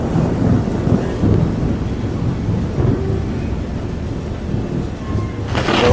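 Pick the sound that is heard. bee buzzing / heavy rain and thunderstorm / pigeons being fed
heavy rain and thunderstorm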